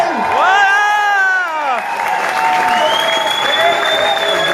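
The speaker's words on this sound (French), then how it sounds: "je vous invite à applaudir chaleureusement nos deux nouveaux mariés" Wedding guests applaud and cheer the newly married couple, a loud steady crowd of clapping with whoops and high excited shouts layered over it throughout.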